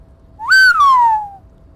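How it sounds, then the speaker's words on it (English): A person whistles a single sliding note that rises quickly, holds briefly, then glides down and fades, clear and close with no other sound. "Trying to whistle."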